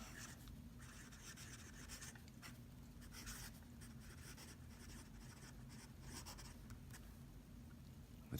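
A Bexley Patriarch fountain pen with a stiff steel fine nib scratches and scrapes across paper, a faint, continuous writing sound with soft, rhythmic stroke pulses.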